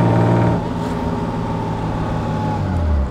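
A 1936 Wanderer W25K car engine rumbles steadily and loudly close by, with a deep sustained drone that shifts in pitch as the car pulls away, and no voices over it.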